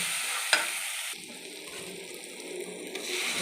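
Spices frying in a pan for potato and egg fritters, a steady hissing sizzle stirred with a spatula, starting with a sharp scrape and settling into even crackle.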